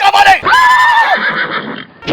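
A horse sound effect gives a loud, close whinny: a sharp rising cry that holds a long wavering tone before fading into breathy snorts, with a brief clip-clop-like burst at the end.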